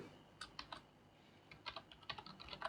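Python code being typed on a computer keyboard: quiet, close key clicks in uneven bursts and short runs, with pauses between groups of keystrokes.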